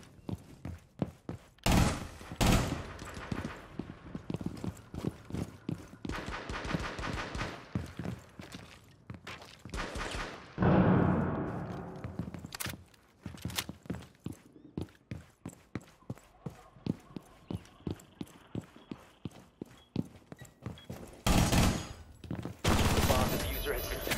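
Gunfire in a first-person shooter video game: dense, repeated sharp shots and automatic bursts crack loudly and steadily throughout, mixed with footsteps and a voice talking over the action.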